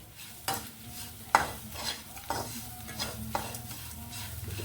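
Loud stirring and scraping of brinjal pieces in a pan over a steady sizzle of frying, with several sharp strikes of the spoon at irregular intervals.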